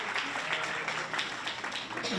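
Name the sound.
audience applause for the men in the room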